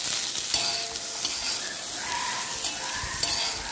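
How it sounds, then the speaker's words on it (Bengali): Boiled vegetable stems and jackfruit seeds stir-fried with turmeric and salt sizzle steadily in a pan, with a spatula scraping and stirring at close range throughout. "এবার আমি 2 থেকে 3 মিনিট কষিয়ে নিব এইভাবে।"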